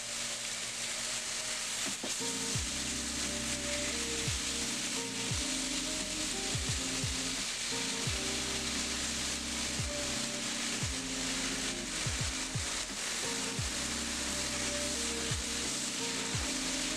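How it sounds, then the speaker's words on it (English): Meat searing in a hot pan gives a steady, loud sizzle that runs throughout, with scattered sharp pops and crackles and no voices. "add my meat, and then try to get the meat seared or browned"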